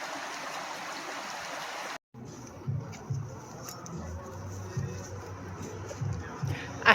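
Brook water runs steadily over stones along Stony Brook on the Appalachian Trail, a continuous close rushing and gurgling with low burbles, briefly cut off near the start before resuming.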